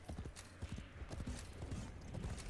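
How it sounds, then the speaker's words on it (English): Horse hooves clip-clop in the video game Warframe, a quick uneven run of close hoof knocks repeating throughout, with faint background noise and no clear talk. "Warframe, now with horses and sheepery."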